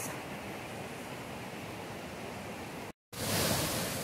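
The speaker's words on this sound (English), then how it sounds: "here's the other part of the lower falls" Tahquamenon Lower Falls roars as a steady broadband rush of falling water, loud and continuous, with a brief cut before the roar returns slightly louder.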